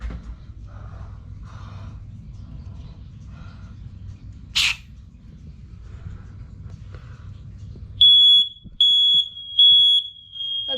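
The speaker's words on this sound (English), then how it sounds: "So I'm going to just clip at each smoke alarm." A residential smoke alarm sounds during a smoke spray test, giving three loud, piercing high beeps in a steady repeating pattern after a stretch of quiet room noise with faint shuffling.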